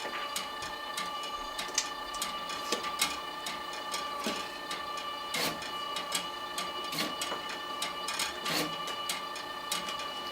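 A label applicator machine with an input feeder and automatic feeder runs steadily, giving off a continuous mechanical hum punctuated by rapid, irregular clicks and ticks as labels are applied, close by with no talk.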